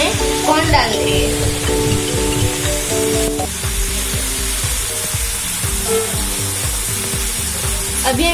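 Corn hits a hot tawa alongside bread pizza, sizzling loudly up close while a spatula scrapes and stirs in a quick, regular rhythm.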